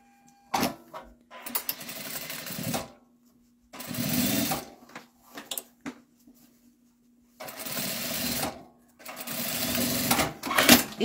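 Sewing machine stitching a waistband seam runs in several bursts of rapid mechanical whirring, close and fairly loud, separated by pauses with soft handling noises.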